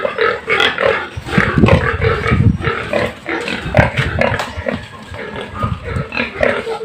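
Pigs on a farm at harvest time grunt and squeal loudly and continuously, a close, busy chorus of several animals.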